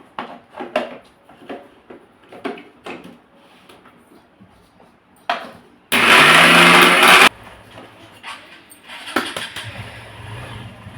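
A mixer grinder grinding rice for disco papad roars loud and close for just over a second, framed by quieter kitchen knocks and clatter before and after.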